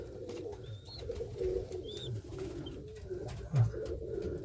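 Domestic pigeons, a mother with her young, cooing in low rolling bursts, with a few thin high squeaks from the young birds, close by and steady with no talk.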